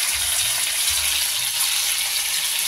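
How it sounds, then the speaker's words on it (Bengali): Broad beans (shim) frying in a pan with soft tomato, salt and turmeric, a loud, steady sizzle running unbroken and close, with no voices. "বেশি ভাজবো না, শিম বেশি ভাজলে শিমের টেস্টটাই নষ্ট হয়ে যাবে।"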